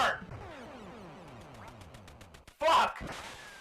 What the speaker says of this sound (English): I just shot down a duck